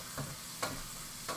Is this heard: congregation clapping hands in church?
no